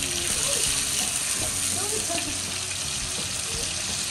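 Tomatoes sauté in a pan with fish sauce, giving off a steady, close sizzle and frying hiss that runs the whole way through, with occasional stirring. A voice can be heard under it.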